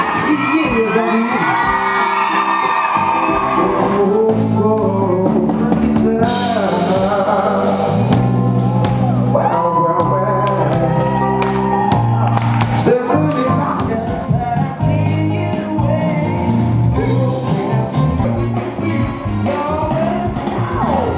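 Crowd at an agricultural fair in Châlons-en-Champagne shouting and whooping loudly, excited yells and cheers rising and falling continuously, with children's voices mixed in.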